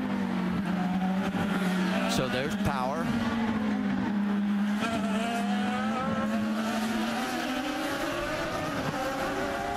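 IndyCar race cars pass on the St. Petersburg street circuit, a sustained engine drone rising and falling in pitch as cars go by, heard under commentators talking.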